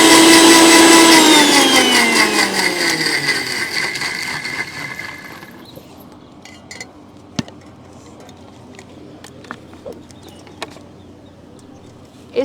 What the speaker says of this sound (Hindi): इसे दोबारा से एक बार ग्राइंड करेंगे।